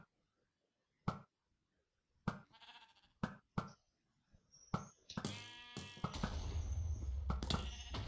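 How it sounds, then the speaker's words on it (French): Sheep bleats from the Minecraft arcade server Epicube, several short sharp cries spaced apart, followed by a loud burst of game effects and noise in the last seconds. "Ah merde, c'est un mouton."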